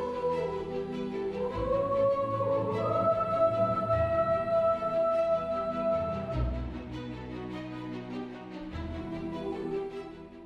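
Dark, mysterious Hollywood-style drama theme: a quiet orchestral passage with a slow, winding melody over low sustained tones, played steadily at moderate volume.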